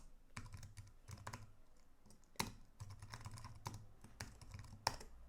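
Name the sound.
typing code on a computer keyboard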